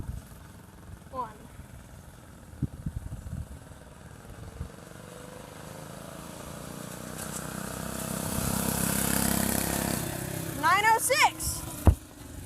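Vintage go-kart and minibike engines in a drag race, small motors puttering and clattering, then building into a rising roar that swells and passes around the middle, with a final burst of revving; someone talks at the start.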